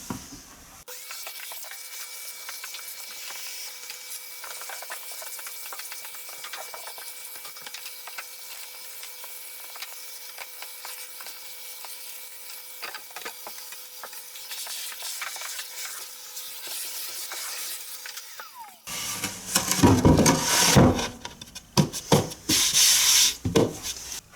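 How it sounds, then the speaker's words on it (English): Vacuum cleaner with a standard nozzle sucking fine dust out of a PC, a steady close whir with faint rubbing and scraping, turning louder and rougher with clattering near the end. "now I'll just hoover the rest out because it's only fine bits of dust left behind"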